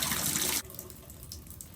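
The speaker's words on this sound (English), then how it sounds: "You're gonna open that hot water up." Hot water gushing hard from a faucet for about half a second, then cut back to a quieter, thinner trickle with faint splashing, close and alone.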